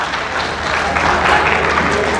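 Applause from a live audience at a leadership and motivational talk: dense, steady clapping filling the room at close range with no break.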